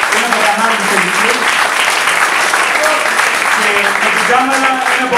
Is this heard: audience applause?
yes